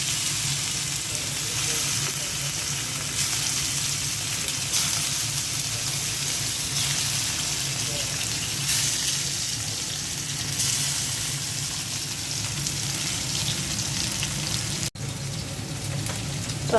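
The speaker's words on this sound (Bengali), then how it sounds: "ফ্রাই প্যানে সরিষার তেল দিয়ে দিয়েছি। এখন ইলিশ মাছগুলো দিয়ে দিচ্ছি।" Hilsa fish frying in mustard oil in a frying pan, a steady broad sizzle that holds for the whole stretch with a brief dip near the end, no voices over it.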